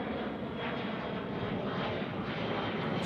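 A KLM airliner at Manchester Airport gives a steady, broad engine roar that holds evenly loud for the whole stretch, with no talk over it.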